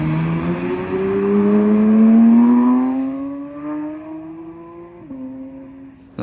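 McLaren Artura hybrid sports car driving on a road, its engine rising in pitch through a loud climbing rev, then easing off and holding a lower drone before a brief shift near the end.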